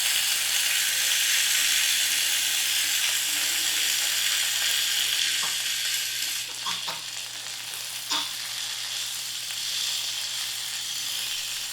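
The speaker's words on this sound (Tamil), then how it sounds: "அதையும் இது கூடவே சேர்த்துட்டு ஒரு மிதமான தீயில வச்சு நல்லா வதக்கிடலாம்." Small spinach leaves and green chillies sauté over medium heat in a pan, giving a steady, loud sizzle and hiss with a few scraping stirs partway through.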